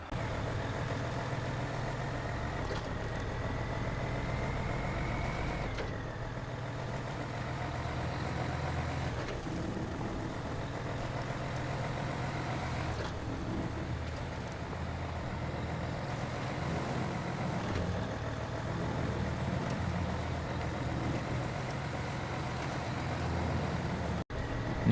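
Several heavy off-road trucks in SnowRunner, set up with different suspension systems, drive together with steady low engine rumble and idling drone, plus one rising whine, continuous and fairly loud throughout with no talk.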